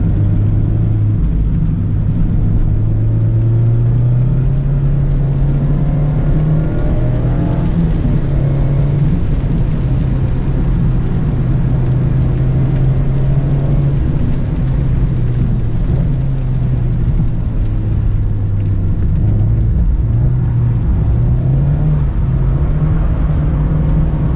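A 2020 Mazda MX-5 Miata Club drifting in the rain on wet pavement that changes surface, with a steady, loud engine drone rising and falling in pitch from inside the car.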